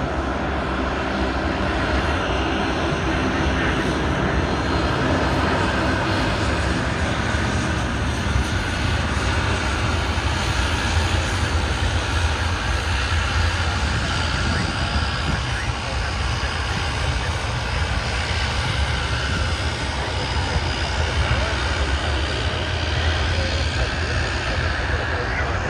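An Airbus A350 jet departs for Melbourne with a sustained, loud engine roar that holds steady throughout, a broad rumbling thrust noise that fills the whole stretch.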